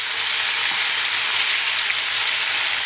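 Venison pieces searing in a pot for a civet, a loud, steady sizzle of hot fat that holds unbroken while the meat is turned, with no voices over it.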